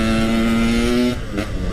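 Motorcycle engine on a Jakarta street, loud and close with a steady high droning note that abruptly drops off, then a brief second surge of revving.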